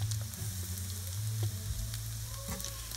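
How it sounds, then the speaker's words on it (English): Chopped garlic and onion fry in hot oil in a pan, a soft steady sizzle with faint crackles, close and even throughout with no talking. "that garlic hitting that oil mixed with the onion"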